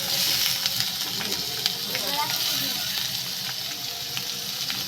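Potatoes go into a pan of frying onion, garlic and green chili, giving a steady close hiss and sizzle with light crackles, while a voice talks faintly.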